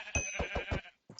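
A sheep in Hungry World, a Minecraft-like game, gives a short quavering bleat, close and fairly quiet, followed by a brief second bleat after a pause.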